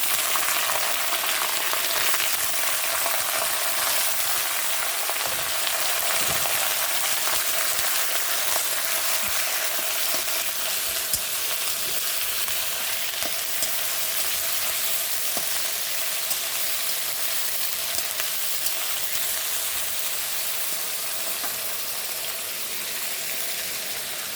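Lamb meat frying in a pan with browned onions for a lamb curry, a steady dense sizzle that holds loud and even from start to finish with no talking.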